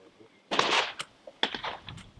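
Shotgun fired at a clay target during an outdoor shooting lesson: one loud, sharp blast followed by quieter clattering knocks, with people talking nearby.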